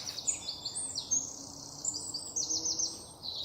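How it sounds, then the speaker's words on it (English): Several birds sing and chirp among the trees in a steady, fairly close chorus of high twittering calls over a soft background hiss, with no voices. "birds make their nests and sing"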